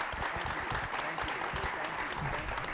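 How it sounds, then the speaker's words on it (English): A seated audience applauds panelists at a university partnership announcement, steady dense clapping filling the whole stretch at close range, loud and continuous with no pause. "Please, a round of applause, if you would,"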